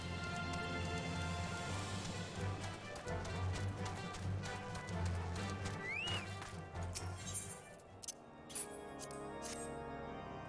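Mount hoofbeats in the video game Final Fantasy XIV, a steady rhythmic clip-clop of a galloping steed under layered game music and ambient tones, fairly soft and continuous.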